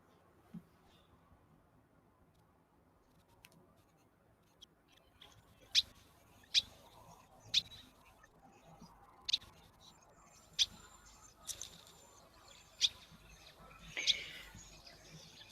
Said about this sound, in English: Got some birds chirping.